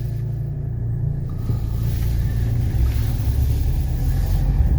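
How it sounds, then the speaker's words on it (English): A 1982 Mercedes 300SD engine idles with a steady, close, low rumble that holds even and uninterrupted throughout. "Engine is idling perfect."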